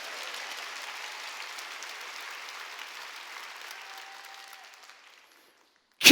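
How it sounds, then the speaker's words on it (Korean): A church congregation applauds as a broad, even wash of clapping that fades away, leaving a moment of silence before a brief loud burst at the very end. "깨달은 사람만 박수 치라고"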